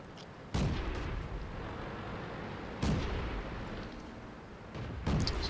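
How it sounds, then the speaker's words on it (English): Tank cannon fire booms in World of Tanks, three heavy shots spaced a couple of seconds apart over a low battlefield rumble, loud and without talk. "I hear some people shooting behind me"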